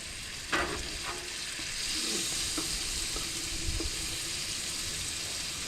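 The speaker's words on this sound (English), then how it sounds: "throw some sliced mini portobellos in there. And another chunk of butter." Sliced mini portobello mushrooms fry in butter in a pan at a windy campsite, a steady close sizzle broken by a few clinks and scrapes of stirring, with no talking.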